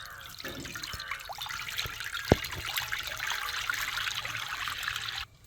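Water drips and trickles close by as soaked meal maker soya chunks are squeezed out by hand, with a steady dribbling patter and one sharp knock midway.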